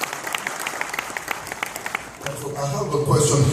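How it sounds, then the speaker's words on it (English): Applause from a crowd at a town hall meeting in Washington DC, broad clapping that shifts partway through as a mix of voices and noise rises underneath. "Give a big round of applause."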